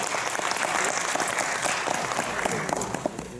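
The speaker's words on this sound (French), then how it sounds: "Vous pouvez applaudir." Audience applause fills the space, a dense, steady clapping that holds at even loudness for the whole stretch without any voices over it.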